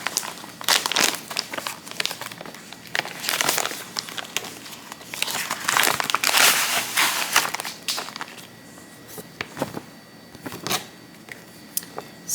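A paper cross stitch pattern from a craft haul, handled and leafed through, giving repeated crinkling and rustling bursts up close with irregular rhythm and no talking.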